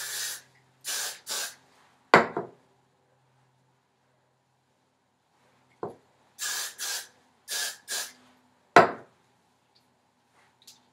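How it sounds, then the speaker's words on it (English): Hairspray hisses onto hair in short aerosol bursts, in two clusters of three quick sprays. Sharp knocks and brushing sounds punctuate the quiet gaps. "And spray some more wherever you need it."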